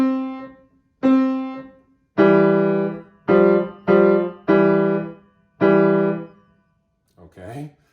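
Piano right hand plays system 2 of a piece, about seven struck notes and intervals in a steady rhythm, each ringing and decaying, followed by a brief bit of speech at the end.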